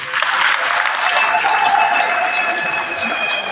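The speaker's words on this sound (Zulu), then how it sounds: "Shayani ihlombe baba." Steady, dense applause from a crowd at a church service at Evukanathi Temple, many hands clapping continuously and loudly throughout, with a voice faintly present underneath.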